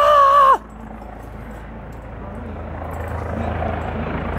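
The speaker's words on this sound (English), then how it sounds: "Okay, helicopter." A steady low rumble of a helicopter passing overhead, continuing for several seconds after a brief loud voice at the start.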